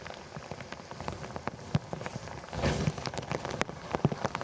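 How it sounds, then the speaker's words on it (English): Heavy rain pours down outdoors during a bass fishing trip, a dense hiss of drops on surfaces swelling mid-way, with scattered sharp taps and knocks close by. "All right, guys, rain's coming in."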